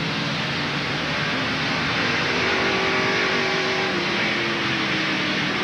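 A NASCAR Winston West race car rounds a corner at Sears Point in 1994, its engine a steady, loud roar that swells slightly mid-pass amid broadband track noise, with no voices.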